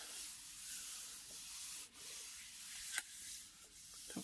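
Paper is rubbed by hand against a gel printing plate, making a steady, soft, hissing friction sound that is close and quiet, with a few brief bumps and taps along the way.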